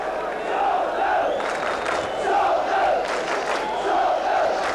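A 35,000-strong football crowd roars at White Hart Lane stadium for Spurs against Leeds United, a loud continuous swelling chant and cheer with rising and falling surges throughout.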